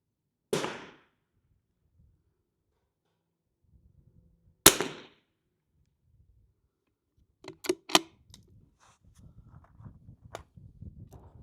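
A .22LR rimfire rifle fires Lapua Center-X ammunition at a match. Two sharp, fairly faint cracks stand several seconds apart in quiet surroundings, followed by light clicks and handling noises.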